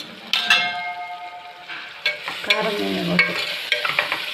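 Sambar powder fried and stirred in a pan makes close scraping and stirring sounds over a soft sizzle, with ringing metallic clanks of the utensil, while someone speaks briefly.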